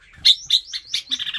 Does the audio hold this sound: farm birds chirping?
yes